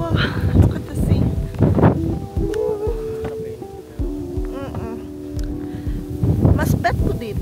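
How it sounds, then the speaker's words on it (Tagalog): Strong wind buffets the microphone on a seaside hiking trail on Jeju, gusting in rough bursts under people chatting. "Sobrang hangin."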